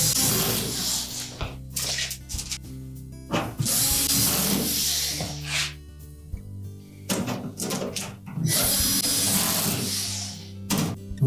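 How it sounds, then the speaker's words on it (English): Power driver running screws into the perimeter of a Whirlpool range panel, several whirring bursts of a few seconds each separated by short pauses, close and fairly loud, no talking. "we'll begin by attaching a few screws around the perimeter just to"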